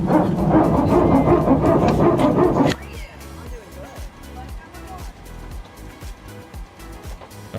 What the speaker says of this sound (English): The barking dog is back.